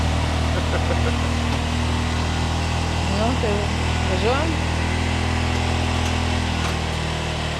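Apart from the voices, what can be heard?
tuk-tuk engine warming up and idling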